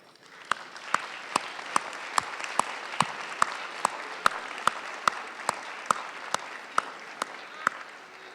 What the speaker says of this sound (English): I'd ask you to rise and give the round of applause your parents, family, and friends deserve.